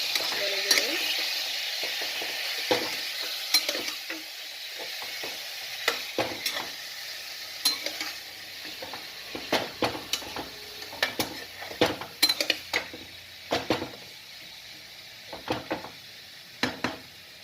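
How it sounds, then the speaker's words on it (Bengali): Chicken frying over low heat in a pan, with a utensil stirring it in a steady stream of scrapes and clinks over a constant sizzle; no one speaks. "গরম হতেই তারপরে দিয়ে দিলাম চিকেনটা চিকেনটাকে ভালো করে নেড়ে দিলাম"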